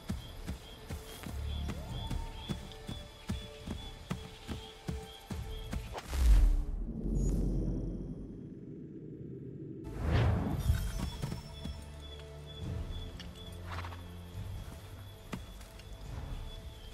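Horse hooves pound in Assassin's Creed III, a run of rhythmic clip-clops up close that breaks into a heavy crash and rumble midway, then the hoofbeats return amid ambient game noise.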